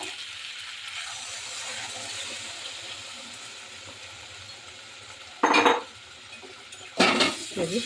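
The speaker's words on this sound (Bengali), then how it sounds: "এই যে কষানো হয়ে গেছে, এখন দিয়ে দিচ্ছি পরিমাণ মতো জল।" Curry being stirred in a pot after water is added, with quiet simmering and sizzling followed by two sharp clanks of a metal spoon against the pot, close by.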